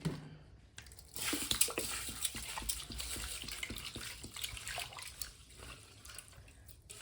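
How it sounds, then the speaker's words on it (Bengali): Rice being washed in water by hand for Bengali anondo naru, a sweet of rice, jaggery, coconut and banana: a steady run of splashing and trickling water with small drips, close and moderately loud, no talking. "চালটাকে আমি ভালো করে ধুয়ে নিয়ে 2 ঘন্টা ভিজিয়ে রাখবো।"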